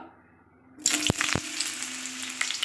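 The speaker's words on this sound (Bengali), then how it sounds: "কুমড়োগুলো একটু ভেজে নিতে হবে" Pumpkin pieces drop into hot white oil in a pan on low gas: near silence gives way to a sudden loud sizzle with a couple of sharp clatters, then a steady hiss of frying.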